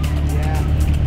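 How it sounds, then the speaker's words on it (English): Chevrolet mid-engine Corvette C8 with a carbon fiber lip and red interior, giving a loud, steady low rumble of engine and road noise from inside the car, with voices talking over it. "dude, Chevy, mid engine Corvette C8"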